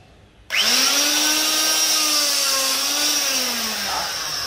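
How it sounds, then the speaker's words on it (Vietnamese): A handheld yellow hydraulic steel bar cutter rated for 25 mm bar kicks on abruptly and drones with a loud, steady high-pitched motor whine and faint shifting tone as it cuts through the bar. "test tiếp cái con máy màu vàng này ha. Cắt bọc luôn nha mọi người nha."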